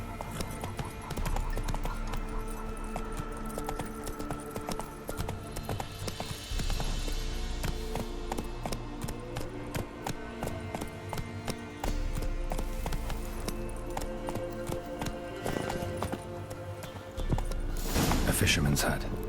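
Geralt's horse Roach gallops in The Witcher 3, with a steady close rhythm of hoofbeats on the ground under game music. Someone speaks briefly over the hooves.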